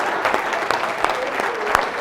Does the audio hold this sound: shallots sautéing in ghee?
no